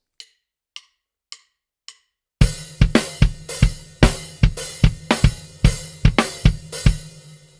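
Four sparse clicks count in, then a full drum groove kicks in with the kick drum on every third sixteenth note, running a bar of 4/4 followed by a bar of 5/4, dense accented hits over a steady low pulse.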